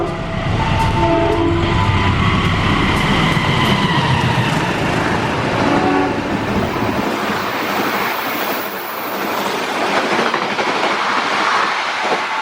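Dharma Wangsa passenger train hauled by a locomotive formerly in red-blue livery roars loudly through on track 2 without stopping, a dense continuous rumble and rushing wash lasting throughout, with a faint horn tone early on.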